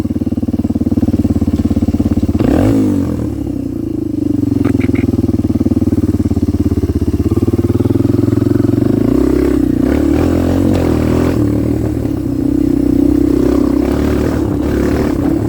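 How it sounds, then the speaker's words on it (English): A Kawasaki KLX 230R motorcycle holds a wheelie in fifth gear, its engine droning loudly and steadily up close, with the pitch dipping and climbing as the throttle is worked. "That was 5th gear, and it holds it up pretty decent right there"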